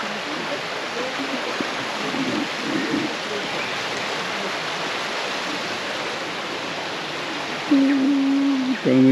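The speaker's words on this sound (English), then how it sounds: "Waterfall, beautiful." Purakaunui Falls in New Zealand's South Island pours into a stream with a loud, steady broadband rush, close and constant throughout, with a brief tonal sound and a voice at the end.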